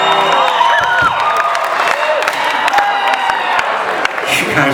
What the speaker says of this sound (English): The Aussies are the rowdiest crowds we ever have found.